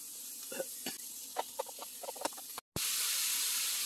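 Chicken and onion slices cook in a pan for a chicken filling, with scattered clinks and scrapes of stirring over a soft sizzle. After a brief cut, a louder steady frying hiss follows.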